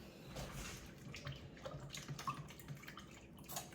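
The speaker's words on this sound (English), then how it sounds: "I'm going to rinse my hands off." Hands are rinsed in a bowl of water after hand-mixing bread dough, giving faint, soft splashing and trickling close by, with a few small drips and no speech.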